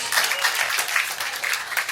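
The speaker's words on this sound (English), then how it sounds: "Another round of applause for our kiddos" Audience applause for children at an all-ages clean comedy and magic show, a continuous close wash of many hands clapping throughout.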